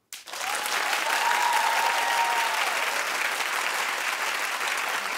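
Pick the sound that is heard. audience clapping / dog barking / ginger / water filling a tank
audience clapping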